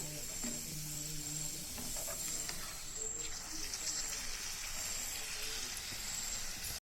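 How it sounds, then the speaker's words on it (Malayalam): Soya and papadam snack fry in hot oil with a soft, steady sizzle and hiss, faint and close, with a voice speaking quietly over part of it. "എണ്ണ ചൂടായിട്ടുണ്ട്. അതിലേക്ക് ഞാനത് ഇട്ടെടുത്താണ്."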